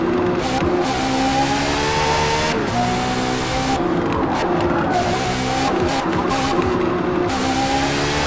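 A race car in Forza Motorsport brakes hard into a corner, tires squealing and skidding over a steady, loud engine roar that rises and falls with shifting revs throughout.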